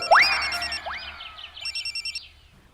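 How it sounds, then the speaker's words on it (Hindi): A phone ringtone plays loudly: rising electronic chirps followed by a rapid burst of repeated tones, with no one talking. "सुनो, शाहरुख का फोन है।"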